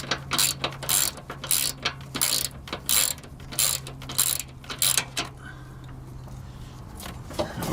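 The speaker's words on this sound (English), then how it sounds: "you're gonna need to hold it up while you're ratcheting at the same time" A ratchet wrench clicks in quick repeated bursts while loosening the rear bump stop on a 2000 Ford Excursion. A steady low hum runs underneath, and the clicking stops in the last couple of seconds.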